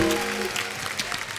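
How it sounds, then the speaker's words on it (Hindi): Studio audience applause on an Indian comedy talk show, a brief burst of dense clapping at moderate level with faint voices mixed in, fading slightly after the first half second. "नीतू जी के लिए जोरदार तालियां।"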